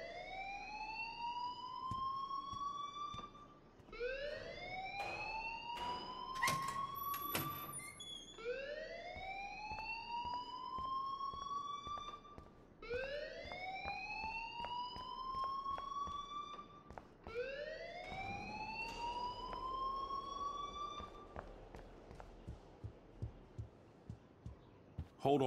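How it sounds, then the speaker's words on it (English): Alarm ringing in the video game Life is Strange: a loud, repeating rising siren-like wail, sweeping upward in regular cycles every few seconds, with some clatter and scattered background noises beneath it. "please turn off that alarm since that's your job"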